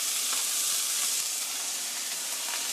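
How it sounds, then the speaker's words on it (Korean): Sliced bacon stir-frying in a pan at a campsite, a soft, even sizzle with faint crackles, heard close and quietly on its own. "볶으시면서 아까 썰어 놓은 베이컨 같이 넣어주세요."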